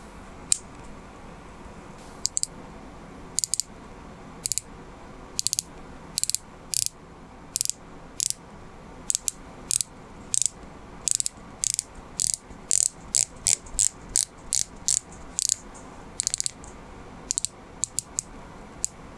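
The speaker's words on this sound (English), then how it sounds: "give this interesting bezel a click test" Crisp, clean ratchet clicks from the rotating bezel of an Oris Aquis Pro Date Calibre 400 dive watch, a long run of sharp, close ticks in irregular bursts as the bezel is turned.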